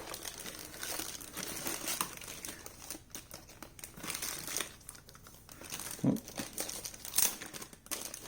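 Tape being pulled and peeled off a cardboard box holding Logitech Z407 speakers during unboxing, a close, continuous crinkling and tearing rustle with a few sharper crackles, no talk.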